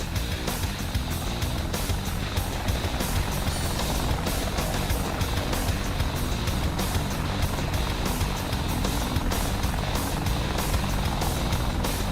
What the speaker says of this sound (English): Alright, helicopters, get up in the air and start doing stuff.